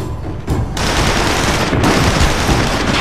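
Dense bursts of automatic gunfire rattle in a firefight in the PS3 game SOCOM 4 U.S. Navy SEALs. After a brief quieter opening, the fire is loud, close and nearly continuous.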